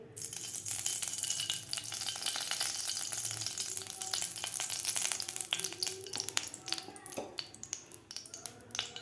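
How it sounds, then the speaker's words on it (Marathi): Two spoons of ghee heating in a kadai for rice kheer give off a faint, steady sizzle with scattered tiny crackles and pops, close but quiet throughout. "आता या कढईमध्ये आपल्याला दोन चमचे तूप घालायचं आहे"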